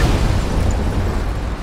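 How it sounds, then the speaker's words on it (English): A Tiberium explosion in Command & Conquer: Tiberium Wars: a loud, sustained rumbling blast of dense noise that fills the whole short moment, with no voices. "Tiberian explosion detected."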